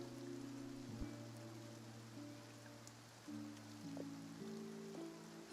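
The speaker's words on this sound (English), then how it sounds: "Oh, it's raining." Steady rain hisses softly across an open area in Genshin Impact's Fontaine, a faint, even wash running beneath sustained music tones for the whole stretch.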